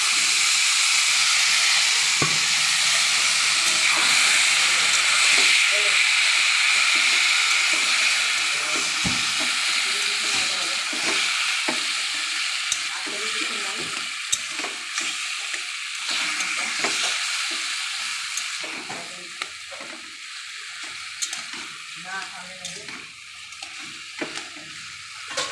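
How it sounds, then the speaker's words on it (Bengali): Taro leaves hit hot garlic oil in a pan, giving a loud steady sizzle and hiss that slowly softens, with scattered stirring clatter and no talk. "এবার কচুর শাকটা ঢেলে দিয়ে দেবো।"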